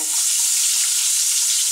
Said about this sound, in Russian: Благо лук так не стреляет, когда жарится